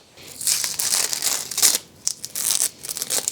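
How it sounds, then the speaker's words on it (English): Masking tape being peeled off freshly painted driveshaft parts: crisp crinkling and tearing bursts close to the microphone, in several short pulls separated by brief pauses. "the first thing we now have to do is remove all our tape"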